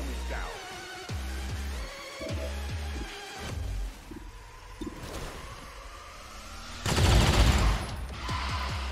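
Rapid bursts of XCOM 2: War of the Chosen video game gunfire crackle alongside electronic tones and effects, ending in a louder, dense volley.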